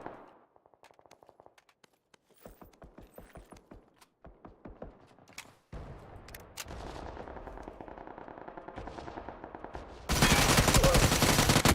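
Scorpion gun firing in a console shooter game: sparse single shots give way to rapid, evenly spaced automatic bursts that grow denser and louder, ending in a sustained roar of heavy gunfire.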